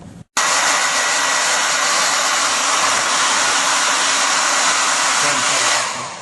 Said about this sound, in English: I'm going to run the hairdryer on it